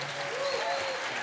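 Brief burst of audience applause for 2D animation and digital arts graduates at a graduation ceremony, steady and moderately loud for about a second.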